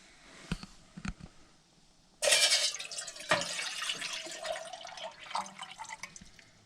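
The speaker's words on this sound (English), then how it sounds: "dump that water in" A few faint clicks and drips, then boiling water pours steadily into a jug with a loud, splashy rush for several seconds, at an overnight truck campsite.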